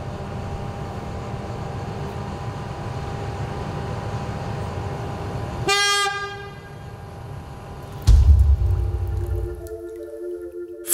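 Freight train at a port rail terminal in Lübeck, a steady low rumble of rolling rail cars with a sharp horn blast near the middle and a heavy clank or thump of wagons toward the end.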